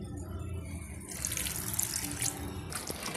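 Ground green masala blended with water is poured into a pan of ridge gourd curry, a sudden splashing pour that starts after a quiet moment and continues close up.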